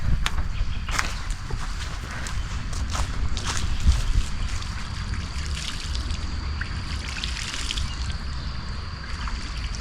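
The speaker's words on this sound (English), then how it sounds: "you can hear like the water running over some rocks in a little rapid just a little further up the stream" A creek running over rocks in a small rapid a little way upstream, a steady trickling wash with occasional nearer splashes and light rustling movement close by.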